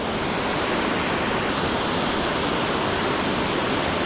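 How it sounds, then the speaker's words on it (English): Cathey's Creek Falls, a waterfall, roars as a steady, loud, broadband rush of falling water close by, with no voices over it. "So this is Cathey's Creek Falls."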